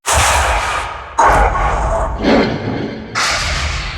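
Four separate whoosh effects from the Hybrid Tools Paragon library, each a loud airy swish with a soft thump, rising quickly and fading, played one after another with brief gaps.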